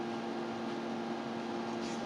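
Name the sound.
fan or washing machine running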